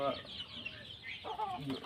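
A sick backyard hen gives soft, low clucks close by, the short calls blending into faint background noise and a person speaking nearby.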